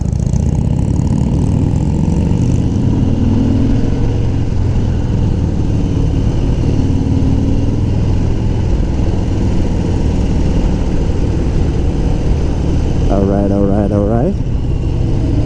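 Harley-Davidson Sport Glide motorcycle engine running with a steady low rumble beneath someone talking, with a brief higher whine near the end.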